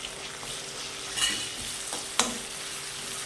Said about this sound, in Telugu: ఆలుగడ్డని ఫ్రై కావాలి మంచిగా.